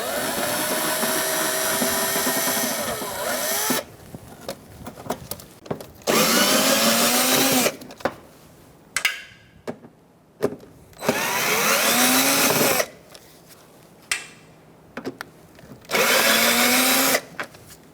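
Power drill or impact driver backing out a bolt from the front inner fender liner of a 2014-2019 Kia Soul, in several loud whirring bursts of a few seconds each, separated by short quiet gaps.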